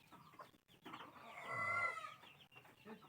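Chickens feeding nearby make soft, scattered clucks, rising to a brief, louder drawn-out call midway before settling back to quiet clucking.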